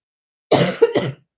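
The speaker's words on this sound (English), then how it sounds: "I really have to cough." A single person coughs up close, a heavy burst and then a second shorter one in quick succession, loud against silence before and after.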